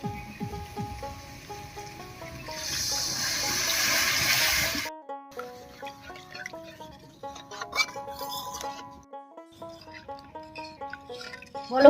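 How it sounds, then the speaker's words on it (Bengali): Water poured into a pan of fried spices for a potol chingri (pointed gourd and prawn) curry: a rushing, sizzling splash of a few seconds, heard over steady background music. "এবার দেব জল।"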